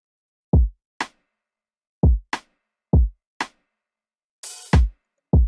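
Open hi-hat layered into a simple afroswing beat, sounding with looping booming kicks and crisp snare snaps in a steady swung pattern, one sustained airy hat wash near the end, no voices.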